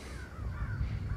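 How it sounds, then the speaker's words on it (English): Crows caw in the Thief (2014) video game on PS4 Pro, a few rough, moderately distant calls over a low ambient rumble. "Hear that, friends? It's the crows. A whole matter of them. Crying for our spirits."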